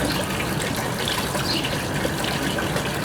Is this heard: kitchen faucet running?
yes